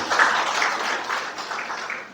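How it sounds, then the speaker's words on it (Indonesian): An audience at a school gathering claps for a guest, a brief burst of mixed applause that starts strong and gradually thins out over a couple of seconds. "Tepuk tangan buat beliau"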